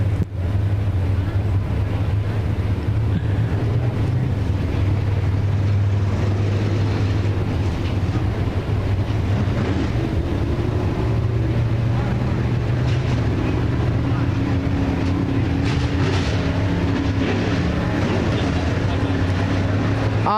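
USRA B-Mod dirt track race cars run at speed around the speedway at a fall jamboree heat race. Their engines make a steady, droning roar with wind buffeting throughout, and an announcer's voice sits faintly in the mix.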